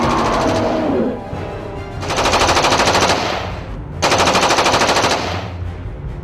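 Rapid automatic gunfire aimed at a vampire in a 3D animated hunt, loud bursts of machine-gun fire in three volleys with brief pauses between, no talking.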